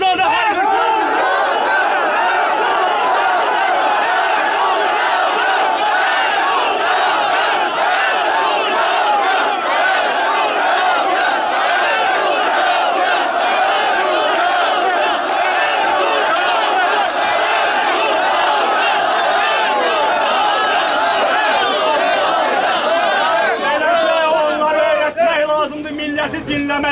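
A large crowd at an outdoor Rəsulzadə commemoration rally chants and shouts together, a loud, sustained mass of voices that swells in rhythmic waves throughout.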